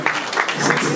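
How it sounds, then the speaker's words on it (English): An audience claps in a large hall during an event honouring a former Nigerian president, a brief dense wash of applause with nothing else standing out. "Please clap."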